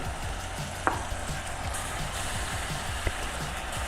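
Pork sizzles in its rendered fat in a pan as kimchi goes in, making a steady crackling fry with a few small clicks and knocks of utensils throughout.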